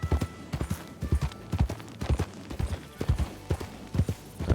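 Horse hooves clip-clopping in a steady, close, rhythmic walking pattern in Red Dead Redemption 2, with no other sounds.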